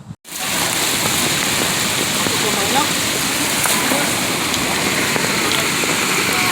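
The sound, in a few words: flood water and rain during typhoon Opong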